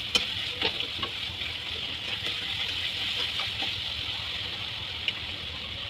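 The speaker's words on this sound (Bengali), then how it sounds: "ভালোভাবে নাড়াচাড়া করে নিচ্ছি, ওতে লেগেও যাচ্ছে।" Tomato masala frying in a pan, a steady hiss of sizzling oil broken by a few soft scrapes and clicks of stirring, close and moderately loud, with no voices.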